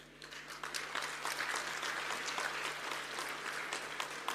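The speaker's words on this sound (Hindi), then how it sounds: "आपको ताली थोड़ी और जोर से मारनी पड़ेगी" An audience at a university family gathering claps steadily, a dense patter of many hands that holds at an even level throughout, moderately close with no speech.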